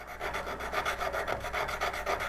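A V-parting woodcarving tool is sharpened with steady rhythmic strokes, rasping back and forth. The strokes are close and moderately loud, evenly paced, and there is no talk.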